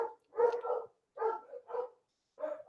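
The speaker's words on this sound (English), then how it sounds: "the dogs are barking" Several dogs bark nearby in short, gruff bursts, about four separate volleys with pauses of silence between them, heard alone without talk.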